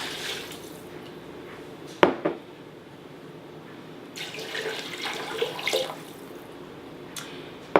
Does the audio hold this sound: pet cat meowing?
no